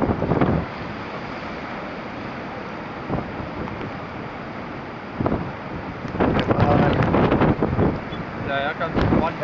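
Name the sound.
ocean waves breaking at a shipwreck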